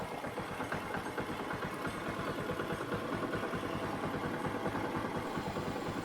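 Honda Karisma X motorcycle engine idling close by, a steady low rapid chugging pulse with a slight mechanical rattle, running evenly throughout with no speech.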